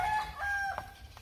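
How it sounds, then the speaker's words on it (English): A neighbours' cockerel crows near an allotment garden, a short, fairly distant cock-a-doodle-doo heard alone over quiet outdoor background. "the neighbours have got a cockerel, as you can hear"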